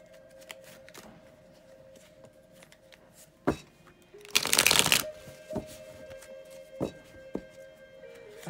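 Tarot cards are shuffled by hand in a quiet room, a dense riffling burst lasting about a second amid scattered soft taps and card handling.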